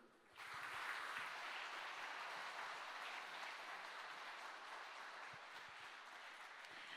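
Sustained, dense applause fills a hall at Korea Zinc's 50th anniversary ceremony, rising quickly at the start and holding as an even wash of many hands for several seconds before easing slightly.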